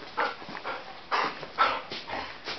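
A puppy whimpers and yips in a series of short, high, nasal cries close by, about half a dozen in quick succession.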